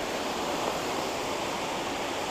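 Water of the Cipunegara river in Subang, used for running-water carp ponds, rushes as a steady, even hiss at moderate distance, with no talk.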